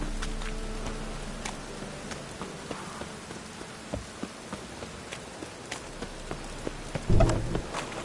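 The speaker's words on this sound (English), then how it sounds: "And it's raining again." Steady rainfall in The Witcher 3 video game, a soft continuous patter lasting throughout, with faint scattered drops and a brief louder thump near the end.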